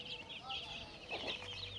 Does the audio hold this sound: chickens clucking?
yes